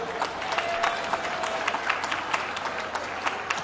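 A crowd gives a steady round of applause at Harvest East End 2013, a wine industry event in New York, dense clapping sustained throughout with a few louder claps standing out.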